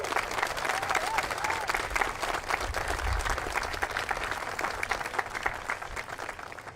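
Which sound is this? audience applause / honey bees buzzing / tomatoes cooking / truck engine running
audience applause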